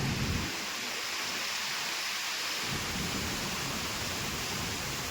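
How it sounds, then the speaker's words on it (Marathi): A heavy unseasonal downpour during a windstorm in Konkan, India roars continuously, broadband and loud, with low rumbling swells at the start and again near the end, like distant thunder under the rain. "खूपच पाऊस लागलो."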